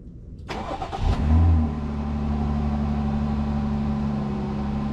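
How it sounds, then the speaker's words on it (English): A 2020 Jeep Gladiator Launch Edition V6 cranks with a quick starter whir, catches with a short rev flare, then settles into a steady, close idle rumble with no talking. "Startup 2020 Jeep Gladiator Launch Edition."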